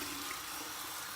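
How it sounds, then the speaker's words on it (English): A bathroom tap runs cold water for a rinse after shaving, giving a soft, steady, even hiss that carries on unbroken and fairly quiet, with no one talking. "So we're gonna flip it to the cold side and do my final cold water rinse."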